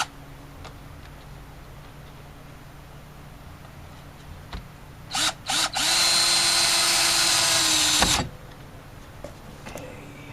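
Cordless drill with its clutch set to 15 driving a screw into 2x6 lumber while rebuilding a generator shed: a couple of short bursts, then a steady close whir for about two seconds that stops abruptly, with no talk.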